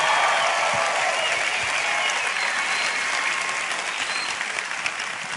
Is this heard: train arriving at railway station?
no